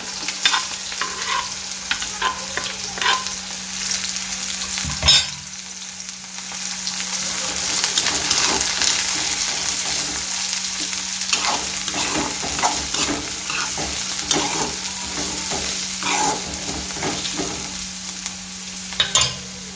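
Sliced onions frying in hot oil in a pan for a bitter gourd curry, with a continuous sizzle and repeated scraping, stirring strokes close by, lasting many seconds with no talk.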